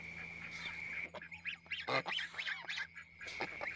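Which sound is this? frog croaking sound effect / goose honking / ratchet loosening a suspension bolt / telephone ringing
goose honking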